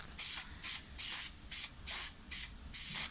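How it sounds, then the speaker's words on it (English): Seven short bursts of blue contact adhesive hissing from a spray can onto laminate worktop, each lasting a fraction of a second with brief pauses between, close and fairly loud. "I'll spray the blue stuff on, stick a tack"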